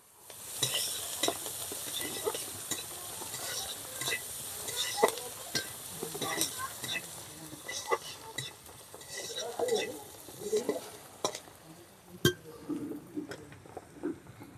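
Chopped onions fry in oil in a pan, with a soft continuous sizzle under frequent scraping and stirring of a utensil and occasional clinks of metal cookware.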